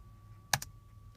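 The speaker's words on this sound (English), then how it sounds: "after you enter each piece of information, you will need to push the enter key on the keyboard to make sure that it's saved" A single keypress on a computer keyboard, one sharp close click followed at once by a fainter second click, then quiet room tone.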